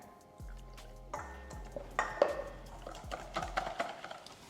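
Cold water is poured into a bowl of batter for chicken katsu, giving faint, sparse drips and small splashes with light clinks of the bowl in a quiet kitchen.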